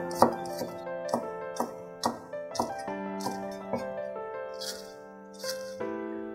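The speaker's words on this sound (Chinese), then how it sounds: "切辅料" Ingredients such as scallion and ginger are chopped on a cutting board, about a dozen sharp, close knife strikes in an uneven rhythm over a sustained musical background.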